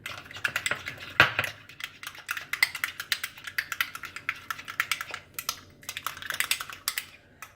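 A salt crust mixture for salt-crusted sea bass is stirred with black pepper in a bowl, giving rapid, uneven clicks and light scrapes close up, quick bursts of tapping with brief pauses and no talking.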